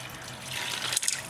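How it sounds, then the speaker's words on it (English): Water runs and splashes into a pot of corn, peas and carrots in a brief, steady pour, with a couple of louder splashes near the end. "I'm going to put some water"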